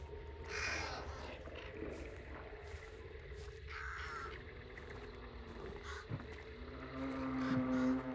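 A raven caws several times in Hunt: Showdown, harsh calls scattered across a dim outdoor ambience with faint rustling and distant environmental noise.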